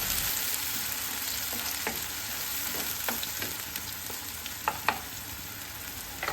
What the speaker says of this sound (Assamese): এইখিনি কম জুইতে ধুনীয়াকৈ তেল ওলোৱালৈকে এইখিনি ভাজি ল'ম।